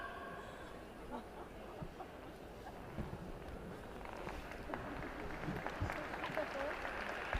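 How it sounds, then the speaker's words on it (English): Steady, dense applause from the crowd at a women's boxing match, continuous clapping throughout with a voice talking over it. "Here we are listening to a lot of claps. People are supporting."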